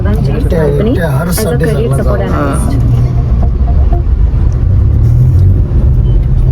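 A car driven fast on a highway on the way home from Trimbakeshwar, heard from inside as a steady loud road and engine rumble, with people talking over it at first before the drone continues alone.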